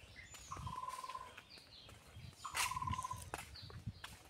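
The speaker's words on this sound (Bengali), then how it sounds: "পাখির ডাক শুনতে খুব ভালো লাগছে" Birds calling outdoors in a village on a warm afternoon: two drawn-out whistled notes and several short chirps, fairly faint against a quiet background with low rustling.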